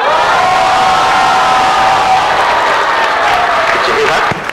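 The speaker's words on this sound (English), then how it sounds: "everybody a big cheer and a thank you" Primary school students cheer loudly together during a school contact with the International Space Station, a dense, sustained crowd of children's shouts and whoops close to the microphone.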